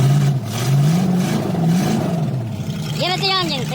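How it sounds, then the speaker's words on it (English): An engine with a faulty low idle circuit rises and falls in pitch as the throttle is opened, close and fairly loud, with a voice cutting in near the end. "I can now come in and give it some throttle"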